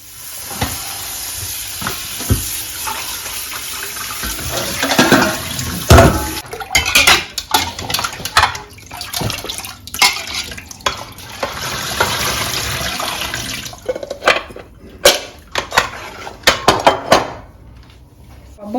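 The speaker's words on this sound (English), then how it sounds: "now we are going to wash all the salts out from the cucumber." Salted cucumbers being rinsed under a running tap in a kitchen sink, with loud water splashing and repeated clatters of the vegetables against the basin and dishes.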